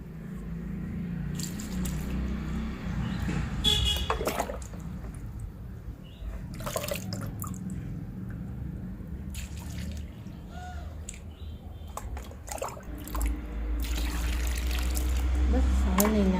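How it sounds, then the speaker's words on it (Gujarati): Water is poured into a small soil basin dug around a plant outdoors, a trickling, splashing flow that comes and goes under a person talking and grows heavier toward the end. "જેને કે આનેથી પાણી નાખજે, જોઈએ આનેથી કેવું જાય છે"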